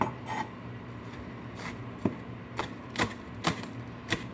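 A knife slicing scallions thinly on the angle against a cutting board, a run of sharp, separate taps spaced roughly half a second apart, close and fairly quiet over a faint background hum.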